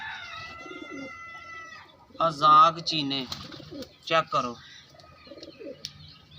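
Pigeons coo and chirp in the first two seconds, a steady tonal call close by, after which someone talks over faint bird sounds.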